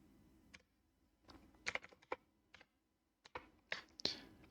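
Python Turtle code for a turtle race game is typed on a computer keyboard, with quiet, close clusters of key clicks coming in short irregular bursts and pauses.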